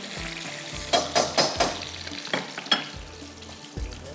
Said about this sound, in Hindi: बस हल्का सा आपने फ्राई करना है।